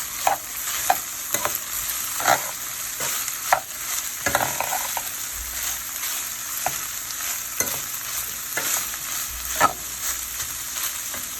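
Ground beef frying in a pan while being stirred: regular spatula scrapes and clacks repeat about once a second over a continuous close sizzle, with no talking.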